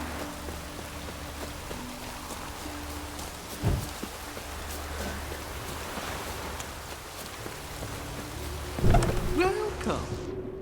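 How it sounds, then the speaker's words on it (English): Steady rain falling in The Witcher 3, a soft continuous patter beneath a low ambient hum, with a couple of louder thumps and some speech mixed in. "Rains like this come sowing time. Rain doesn't bother you, it seems."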